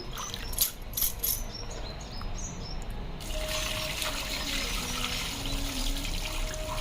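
Ration rice is washed in water, giving soft sloshing and trickling at first, then a steady running-water hiss like a tap pouring. The sound is faint and fairly close, with no talking.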